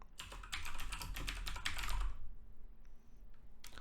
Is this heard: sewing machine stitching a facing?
no